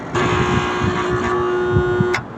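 A stuck air conditioner compressor powers on and gives a steady, tonal electrical hum for about two seconds before cutting off abruptly.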